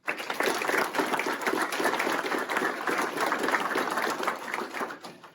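An audience at a county sheriff's department awards ceremony applauds, a dense, steady round of clapping that starts abruptly and holds evenly for several seconds before trailing off.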